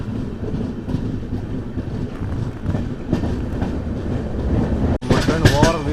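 Kacheguda–Mysuru SF Express on its first run with LHB coaches, giving a steady loud rumble of wheels and carriages with wind buffeting throughout; a sharp brief dropout near the end gives way to brighter rattling.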